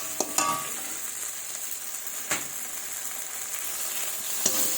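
Spices with salt and turmeric sizzle steadily in hot oil for a katla fish jhal, a broadband frying hiss with a few sharp scrapes of stirring, no voices.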